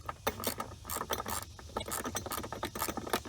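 A ratchet clicks in quick, uneven bursts, close and fairly quiet, as it tightens a bolt on a Mishimoto oil catch can fitted to a 2018 Honda Civic Si.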